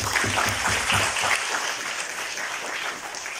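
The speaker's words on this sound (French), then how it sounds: "je pense que d'abord on peut applaudir du coup tous les speakers" A crowd applauds the speakers at a talk, clapping steadily for a few seconds, a dense wash of hand claps that stays loud and then eases off slightly at the end.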